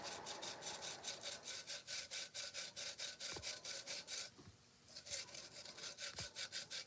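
Someone sands the inside of a pot by hand with fast, even back-and-forth rasping strokes that are close but quiet, broken by a brief pause and a few faint knocks.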